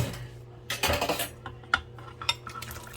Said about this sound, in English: I took out the potatoes and stuff, so I'm going to re-add them